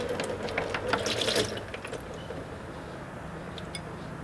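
Transmission fluid from a Kia Stinger GTS draining into a pan, a steady close trickle and splash that is busier at first, then settles to a quieter continuous pour.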